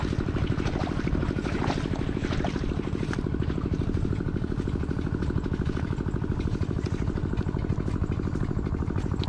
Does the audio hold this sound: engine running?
yes